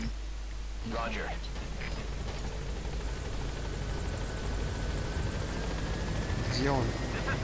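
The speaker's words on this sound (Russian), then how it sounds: "Ладно, мне вертолет нужен." A helicopter in the video game Metal Gear Solid V: The Phantom Pain throbs as a continuous low rotor rumble, moderately loud, while someone speaks over it now and then.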